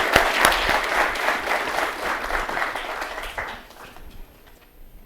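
An audience applauds a speaker walking onto a stage at a Berkeley event, steady dense clapping that fills the room and then thins and fades toward the end.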